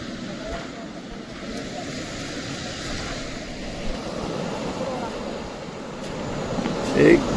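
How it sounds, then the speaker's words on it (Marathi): Manjara river running in full spate, a steady broad rushing roar of water that fills the whole clip, with a slight swell near the end. "मांजरा नदी भरभरून वाहत आहे।"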